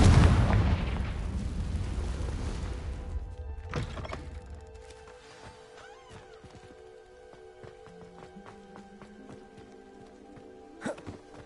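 Confringo spell explosion in the Hogwarts Legacy video game: a loud booming blast that rumbles and fades, followed by quieter scattered game effects and a faint late thud.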